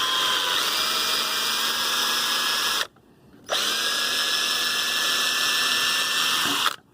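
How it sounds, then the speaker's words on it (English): A small drill bit bores into a wood handle with a steady, loud high-pitched whine. The bit runs for about three seconds, stops briefly, then drills again for roughly three more seconds before it winds down. No voices are heard. "I'm going to drill right into the wood."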